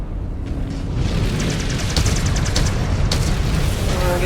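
A missile explodes in the mech combat game Mechwarrior Clans, a dense, roaring boom that swells into a sustained, rumbling blast with crackling debris, loud and close throughout.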